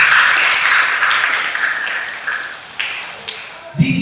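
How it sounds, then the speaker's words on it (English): Applause from an audience at an event's opening session swells at first and then thins out over a few seconds into scattered individual claps, with a handful of sharper, louder claps standing out near the end. "Let's give a hand to Lucas."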